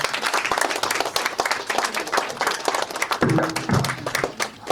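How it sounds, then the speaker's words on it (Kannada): Steady, dense clapping from a gathered crowd at a film premiere function, close and fairly loud, with a few sharper claps standing out near the end. "ಚಪ್ಪಾಳೆ"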